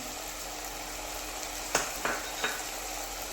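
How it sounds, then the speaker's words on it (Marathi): Tomato puree is stirred into a cashew masala in a hot pan, giving a steady close sizzle broken by three sharp spatula scrapes near the end. "आणि छान असे मिक्स करून घ्यायचे आहे"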